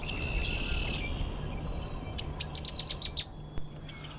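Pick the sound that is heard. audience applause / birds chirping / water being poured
birds chirping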